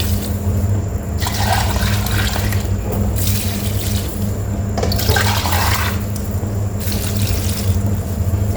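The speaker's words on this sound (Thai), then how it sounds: "ใส่น้ำเช่ข้าวลงไปค่ะ" Rice-soaking water pours steadily into a dish, making a loud, close, continuous gushing splash that surges and eases in waves for several seconds, with no talking.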